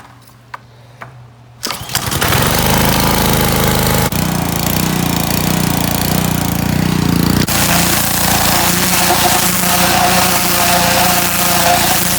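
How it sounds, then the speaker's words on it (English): A power washer starts up and blasts water over engine cylinder heads from a junkyard LS 862, with a loud, continuous motor drone and hissing spray after a short quiet lead-in. "hit it with the power washer."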